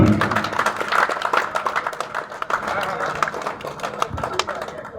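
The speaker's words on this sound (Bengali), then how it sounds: "সকলের জন্য একটা জোরে করতালি দিই" Loud applause from an audience at the inauguration of a residential community cricket tournament, dense clapping sustained throughout, with a faint murmur of voices mixed in.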